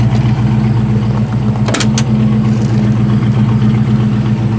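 A Ford Foxbody Mustang's 5.0 V8 idling close by with a steady, deep, throaty rumble that holds even throughout, with a brief faint higher clatter midway.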